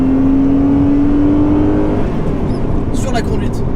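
Renault Clio sports car, a Clio V6 or 182 RS Trophy, driving hard with a steady engine drone and a falling whine as it brakes into a corner, with tire and road noise continuing under a voice talking.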